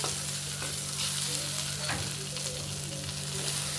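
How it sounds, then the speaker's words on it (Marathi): Paneer sautéing in a tawa pan on low heat, a steady close sizzle with light scraping and stirring strokes running throughout, no voices. "त्याला थोडा वेळ छानपैकी असं परतून घ्या"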